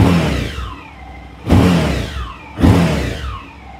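A Suzuki V-Strom 1050XT adventure motorcycle with its stock exhaust, revved three times in close succession, each rise in engine note easing back toward idle, loud and close with no talking.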